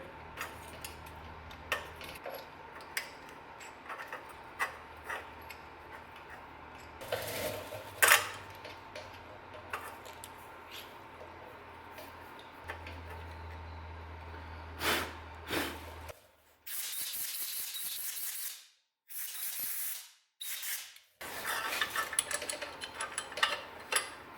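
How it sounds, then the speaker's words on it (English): A thread tap chases the threads of a hole in a part from a wrecked GSX-R 1000 motorcycle, giving soft intermittent ratcheting and metallic clicks, close and fairly quiet. Louder noise bursts follow near the end. "I think this hole needs its threads chased. So I'm gonna run the tap through it real quick."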